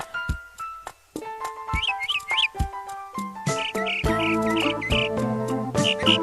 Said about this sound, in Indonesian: itu ada burung kutilang